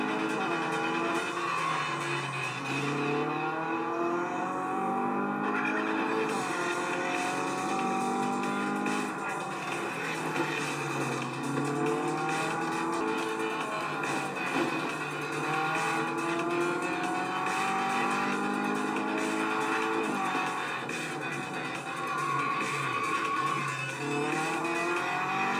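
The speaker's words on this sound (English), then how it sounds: "it's really awesome in a game like Real Racing 3" Race cars in the mobile game Real Racing 3, engines droning and revving steadily with rising and falling pitch as gears shift, continuous and loud with occasional tire squeal, no talking.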